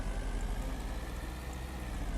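A steady, low, truck-like engine drone comes from a car in the video game New Fishton. It hums quietly and evenly throughout, with no speech.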